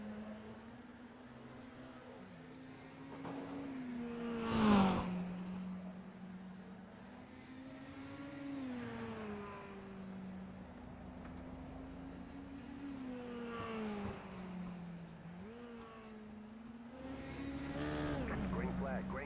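Mini stock race cars racing at Lanier Raceway, a steady engine drone with shifting pitch as cars run close for position, one sharp loud burst midway, under continuous announcer talk.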